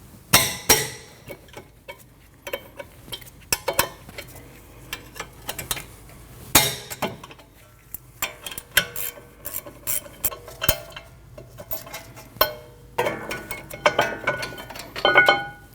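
Metallic clinks and clanks of tools working loose the two 15mm caliper bracket bolts on the rear brakes of a 2013-2019 Ford Escape, arriving as scattered sharp taps and rattles at close range with quiet gaps between them.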